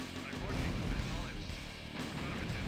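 Real-time strategy battle in OpenRA with units firing continuously, a dense, busy wash of gunfire and explosions running steadily throughout, with a voice speaking over it.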